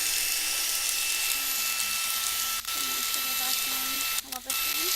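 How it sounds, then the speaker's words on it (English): A small pink vacuum cleaner whirs with a constant high-pitched whine close by. A voice talks over it, and the motor pitch wavers slightly as it moves. "It's a nice little vacuum."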